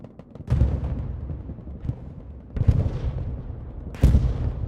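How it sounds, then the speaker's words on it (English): Artillery shells land in the World War II shooter Hell Let Loose, with three heavy booms spaced a couple of seconds apart, each followed by a rumbling tail over a low battlefield background. "Their artillery's been on point."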